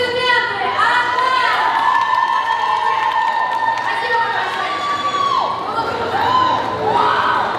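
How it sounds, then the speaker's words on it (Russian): A loud, continuous crowd roar of cheering and shouting with clapping mixed in at a dance competition, sustained throughout at close range. "Аплодисменты!"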